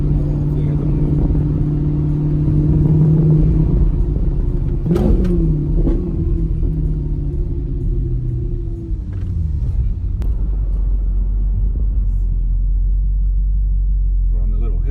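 An Audi R8 converted to rear-wheel drive rolls through a residential neighborhood with a loud, steady low engine rumble, a brief rise in revs midway, and a deep idle-like drone toward the end.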